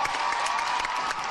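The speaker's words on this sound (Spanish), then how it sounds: "Una tremenda la ovación" An arena audience gives a sustained ovation with dense applause and scattered cheers for Ona Carbonell and Gemma Mengual's synchronized swimming duet, steady and loud throughout.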